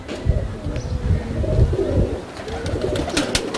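Highflyer pigeons coo in a steady, close, low murmur, their soft repeated calls overlapping with light rustling.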